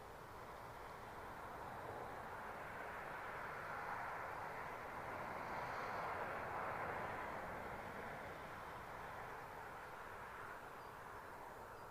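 A Ryanair airliner's engines rumble at an airport, a steady distant roar that swells slightly and fades, heard alone without talk.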